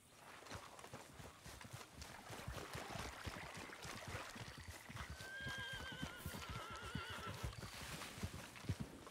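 A horse neighs and its hooves clop in Red Dead Redemption 2, heard close over ambient outdoor game sound, with whinny tones rising partway through.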